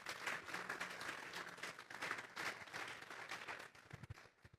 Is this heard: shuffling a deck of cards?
no